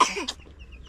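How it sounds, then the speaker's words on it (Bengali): A young girl gives a single short, close cough, followed by a faint breathy throat sound and near quiet. "এই তো কাশি হচ্ছে, মানে ঠান্ডা লেগেছে মনে হয়।"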